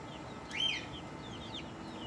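Chickens being fed eggs give soft, faint clucks and short chirpy calls over steady background hiss, with no talking.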